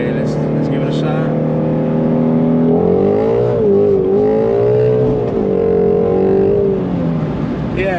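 A Shelby on fresh new tires pulls hard through second gear, its engine note rising steadily and loud over about eight seconds, with talk from inside the car partly over it.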